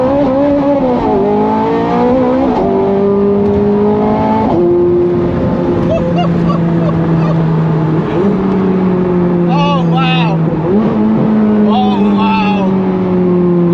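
A Ferrari 430 Scuderia with its exhaust valves held open revs loud and close, its engine pitch climbing and dropping in repeated sweeps, while voices talk over it.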